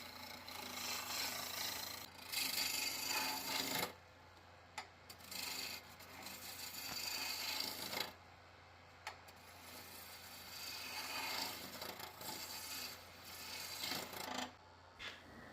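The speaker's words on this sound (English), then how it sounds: "I'm using my spindle rough and gouge to get this guy down to round" A spindle roughing gouge scrapes wet wood turning on a lathe, giving a close, raspy, continuous cutting sound that swells and drops in pulses as the tool passes along the spinning blank.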